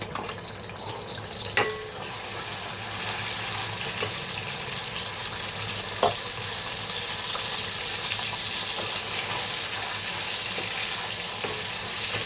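A green paste of ginger, garlic, chili and coriander frying in hot oil, giving a steady, close sizzle with a couple of sharp utensil knocks and occasional stirring scrapes; no one speaks.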